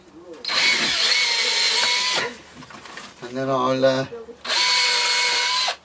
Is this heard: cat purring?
no